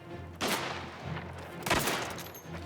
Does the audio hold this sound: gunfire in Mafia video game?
yes